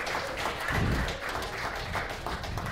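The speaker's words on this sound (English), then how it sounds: "We're going to just see who gets the loudest round of applause." Brief round of applause from a small audience at a lacrosse preview show, light uneven clapping with a few distinct hand claps, moderately close and fairly quiet.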